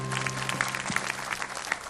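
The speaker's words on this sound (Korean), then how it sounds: "주님께 영광의 박수 올립시다." Church congregation clapping in praise during a youth worship service, a dense steady round of applause with some speech blended underneath, moderately loud and sustained throughout.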